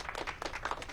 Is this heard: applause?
yes